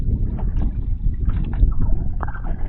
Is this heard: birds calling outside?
no